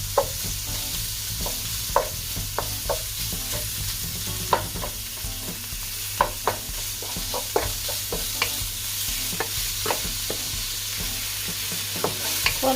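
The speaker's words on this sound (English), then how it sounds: "So now I turn the heat up high to cook the pork." Pork fries over high heat in a pan for Korat-style pad thai, producing a loud continuous sizzle broken by frequent sharp scrapes and taps as a utensil stirs the meat.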